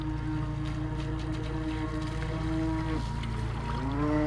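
Vintage RC model boat with a replaced motor runs on open water, giving a continuous buzzing drone whose pitch holds steady, then dips and climbs again as the throttle changes, fairly distant and alone.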